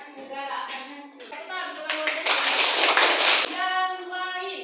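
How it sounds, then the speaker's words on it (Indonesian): A classroom of students applauds with a burst of clapping in the middle, while a teacher's voice talks before and after it. "Tepuk tangan."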